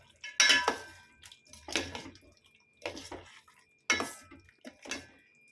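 A metal spoon stirs chicken gravy made with ground tomato and coconut milk in a pot. Five separate bursts of clinking and scraping sound close by, with quiet pauses between them.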